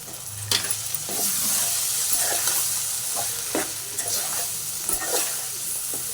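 Brinjal and potato curry is stirred in a hot pan after chilli powder and salt go in, with a constant sizzle and a string of close spatula scrapes and knocks at an uneven pace.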